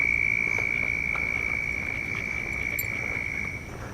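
Frogs hidden in grass along a morning walking path, a steady chirring trill droning without pause throughout, with insect-like buzzing in the background and no voices.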